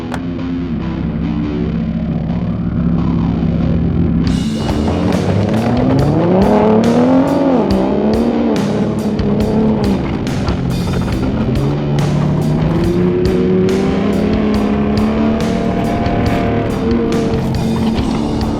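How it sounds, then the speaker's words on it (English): A pickup truck drives up and down a road towing a rifle scope tied behind it, its engine revving and swelling loudly while rapid clattering, scraping clicks run through the passes. "how about we tie it to the back of that pickup truck and we drive it up and down the road a little bit"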